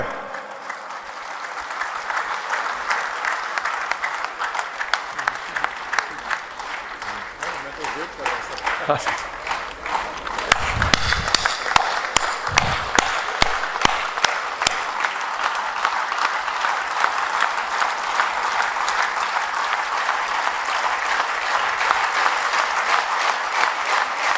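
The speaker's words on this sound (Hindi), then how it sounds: "जोरदार तालियों की गड़गड़ाहट से" Loud, thunderous applause from a large crowd at a book release ceremony, dense clapping that swells midway with rhythmic surges, and voices mixed in beneath it throughout.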